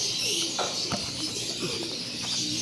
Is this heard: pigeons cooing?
yes